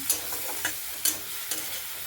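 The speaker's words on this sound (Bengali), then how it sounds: "টমেটোটা ভেজে নেবো একটু লবণ দিয়ে" Chopped tomato with a little salt frying in a pan for a pointed gourd curry: a constant close sizzle with four or five sharp spatula scrapes at roughly even intervals, and no talking.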